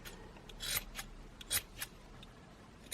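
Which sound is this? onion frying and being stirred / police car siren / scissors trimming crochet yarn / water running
scissors trimming crochet yarn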